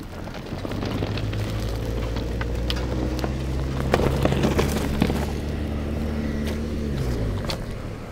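A 2021 Subaru Forester e-Boxer hybrid 2.0ie climbing a rough dirt field track, its engine a steady low drone with rising tones, plus gravel crunching and bumps around the middle.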